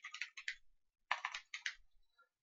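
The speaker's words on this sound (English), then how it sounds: "Type in the name" Quick bursts of clicking keystrokes on a computer keyboard as a name is typed into a login box, two short runs of taps separated by a brief pause, close and clean.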